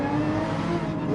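A pack of racing cars bunched through a corner in Gran Turismo 7 on the Deep Forest track, engines droning together in a steady, dense layered whine over one brief second.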